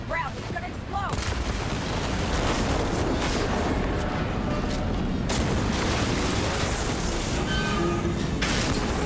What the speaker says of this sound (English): Hit the ground. It's gonna explode.